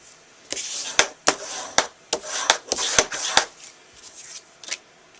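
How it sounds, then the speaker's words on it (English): A clay flower pot base is burnished by hand, giving a series of sharp, close rubbing and tapping strokes in an irregular rhythm, with quieter scraping between them. "let me give our base here a nice burnish"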